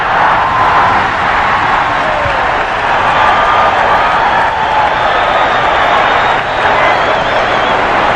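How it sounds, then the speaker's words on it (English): At the 1984 NBA All-Star Game, a basketball arena crowd roars for a play by Dr. J, a dense, continuous wall of cheering that stays loud throughout. Commentators talk over the crowd noise. "this is a Western crowd, and they're up on their feet cheering that play by Dr. J"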